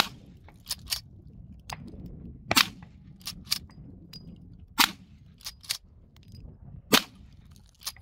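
An 1873 Winchester rifle chambered in .44-40, made in 1883, fires several sharp, loud shots at irregular intervals, with lever-action clicks and handling noises between them.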